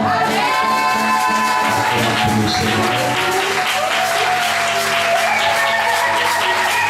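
Congregation applause and acclamation during a French-language church service, a steady dense wash of clapping with sustained tones and voices running through it for the whole stretch.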